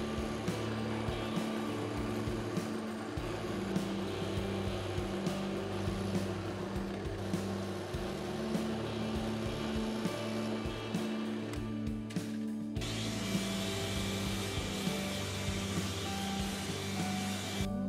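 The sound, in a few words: drill press drilling string ferrule holes in guitar body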